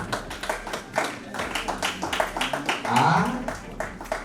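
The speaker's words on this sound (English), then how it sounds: "This type of clapping, you guys don't seem happy." Scattered, half-hearted clapping from an audience at a book launch, uneven separate claps rather than full applause, with a voice speaking over them.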